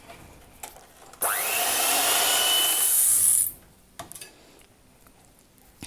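Electric beater whirring through red velvet cake batter with vinegar just added, a steady loud motor buzz starting abruptly, running about two seconds and cutting off, with faint kitchen clicks before and after.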